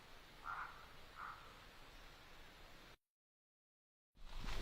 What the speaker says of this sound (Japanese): このカエルの鳴き声を聞くと、